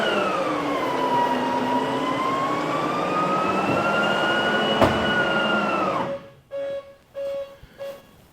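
A Beech Queen Air's landing gear retracts on the ground with the aircraft on jacks, giving a loud electric motor whine that rises and wavers for several seconds, stops abruptly, then a few short beeping tones follow.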